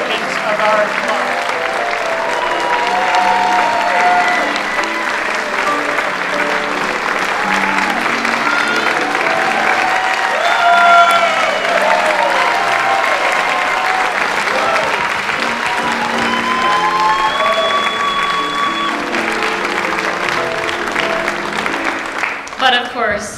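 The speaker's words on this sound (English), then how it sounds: "we want to thank her with some tokens of our applause" Sustained applause from an auditorium audience at a Broadway revue, loud and steady throughout with crowd noise and some singing or music tones mixed in, tapering slightly at the end.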